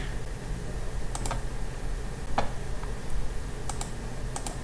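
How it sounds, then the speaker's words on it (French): A few sharp key clicks on a computer keyboard while pressing Ctrl+A in a spreadsheet, sparse presses scattered over steady background hiss. "avec le clavier, CTRL enfoncé, je tape A"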